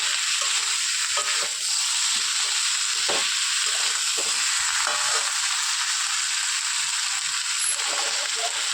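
A pre-fried fish head sizzles in a pan with turmeric while being stirred, giving a constant loud frying hiss and spatter with scraping stir strokes, close up and without talk.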